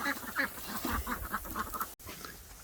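Farmyard ducks quacking repeatedly near the microphone during feeding and watering time, a run of rhythmic quacks with a brief dropout partway through.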